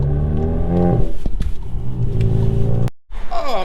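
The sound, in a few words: Volkswagen MK7 GTI car driving past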